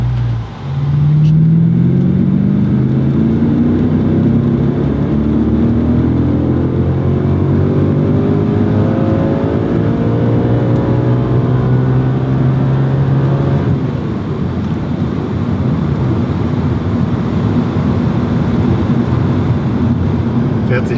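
An Audi RS4 B7 estate on a dyno during tuning and power measurement roars loud and close, its engine note climbing steadily through a long sustained pull before easing to a lower steady drone.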